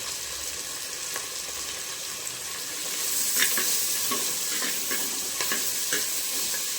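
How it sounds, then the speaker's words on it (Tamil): Onion, garlic and curry leaves sauté in a pan with a steady, close sizzle, while scraping stirs break through at irregular moments. "வெங்காயமும் வெள்ளைப்பூடும் லைட்டாக வதங்கிருக்கணும்."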